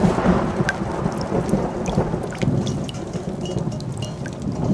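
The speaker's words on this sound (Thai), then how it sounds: "ฝนรั่วค่ะ" Steady rain with rolling thunder, a continuous dense wash of rainfall and low rumbles, loud and close throughout with no voices.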